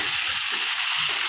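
Partly boiled potatoes fry in a pan as they are stirred, with a steady hissing sizzle and soft scraping strokes, close and continuous with no voices.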